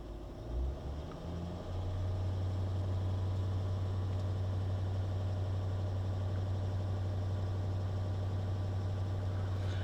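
An engine idles steadily with a deep, even hum, stepping up in pitch and loudness early on, then holding at a higher sustained drone.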